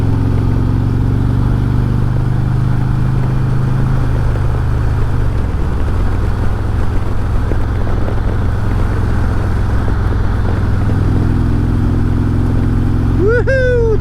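Motorcycle exhaust pipes droning loud and steady on a long-distance highway ride, continuous engine roar with wind rush and slight changes in pitch as the rider holds speed.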